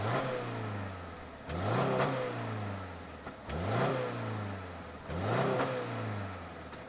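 A 2024 Subaru Crosstrek Sport engine revs up three times in succession, each rise and fall of pitch clearly audible over a steady idle, close and fairly loud.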